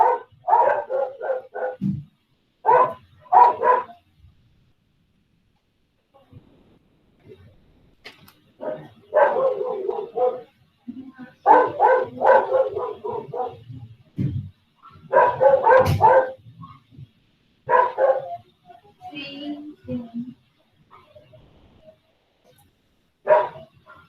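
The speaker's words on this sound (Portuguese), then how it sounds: "os cachorros da minha vizinha estão impossíveis hoje" A neighbour's dogs bark in repeated bursts of several yelps each, separated by short quiet gaps, fairly close and moderately loud.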